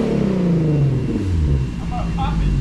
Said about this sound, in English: you just warm up the engine